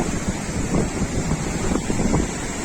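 Sea waves at Paradip beach wash and surge continuously under strong wind buffeting the microphone, a rough, steady roar with slightly louder swells throughout.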